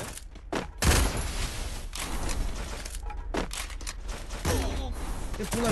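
Bursts of rapid video game gunfire crackle in several sharp volleys over a busy background, loud and close, with a few heavier thuds between shots.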